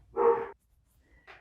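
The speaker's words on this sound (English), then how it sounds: "Sorry, that was my dog." Dog in a home, one short close bark followed by a brief faint whimper, otherwise quiet room.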